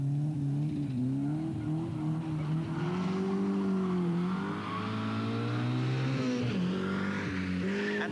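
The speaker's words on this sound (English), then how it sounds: "Skoda pauses for a celebration pirouette" A Skoda rally car spins a celebration pirouette on a British RAC rally stage, its engine revving hard and wavering in pitch as it turns, loud and close with tyre scrub throughout.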